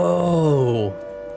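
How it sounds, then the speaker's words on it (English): An air raid siren in the War of the Worlds video game wails with a falling, harmonic-rich tone that drops in pitch, then cuts to a lower steady hum. "I'm noticing we got the air raid sirens"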